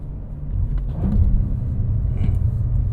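A Cadillac CT4-V Blackwing cruises on the road, its engine giving a deep steady rumble with a slight rise in revs, heard from inside the car without talk.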